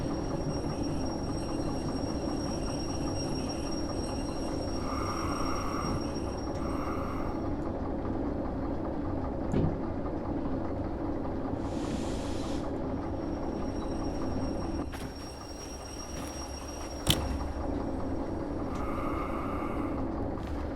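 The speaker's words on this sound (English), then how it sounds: "stopping this train then" Train braking to a stop in the Derail Valley simulator during steel mill shunting: a steady low rumble of rolling wagons with brief hissing bursts and a sharp clank near the end, heard alone without talk.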